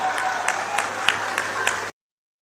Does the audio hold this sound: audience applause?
yes